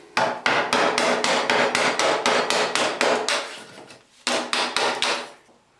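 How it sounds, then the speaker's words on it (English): Wood chisel struck with a hammer into a ceiling stud, a rapid run of about fifteen sharp, evenly spaced blows, a short pause, then a few more strikes, close and loud with no talk. "we can just chisel that out"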